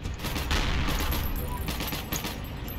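Rapid gunfire from the war game Heroes & Generals: dense, sustained bursts of shots close up, continuing throughout.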